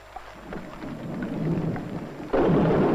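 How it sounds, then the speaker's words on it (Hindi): Heavy rain and rolling thunder fill a Hindi radio play, a steady downpour swelling into a loud low rumble near the end, with no voices. "केवल ये वर्षा नहीं सही जाती।"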